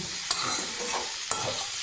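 Ginger paste, chili and salt fry in a little mustard oil, making a close, steady sizzle. Two sharp clinks of a utensil against the pan break through it, about a second apart, and no one speaks.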